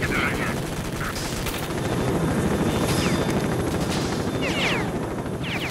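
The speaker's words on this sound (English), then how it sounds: "That helicopter's gonna get me." A helicopter in the video game STALKER: Shadow of Chernobyl thuds steadily and loudly overhead throughout, its rotor chop constant, with gunfire cracking intermittently beneath it.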